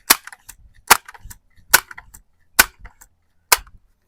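An Umarex NXG APX multishot air pistol fires five sharp, snappy shots at range targets, spaced about a second apart, each followed by faint clicks and handling noise.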